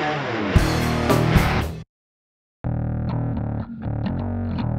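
A distorted electric guitar amp, recorded with three microphones, plays loud chords, stops for a brief silence, then returns with more held and rhythmic notes.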